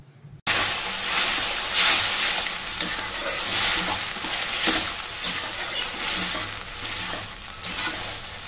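Water poured into apple chutney sizzling in a pan sets off a loud, close hiss and bubbling frying sound, with stirring scrapes continuing throughout.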